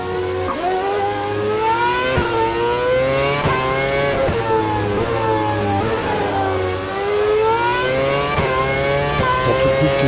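Race car engine revving hard on a track, loud and continuous with rising and falling gear pitches and repeated shifts over about ten seconds, nearby and alone.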